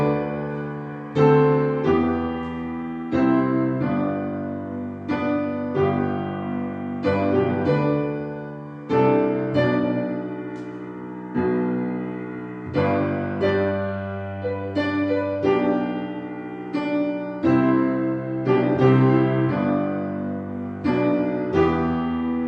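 Solo piano plays a hymn, the left hand sounding bass octaves under simple chords in a steady, even rhythm. The playing is close, clear and moderately loud, with no talking.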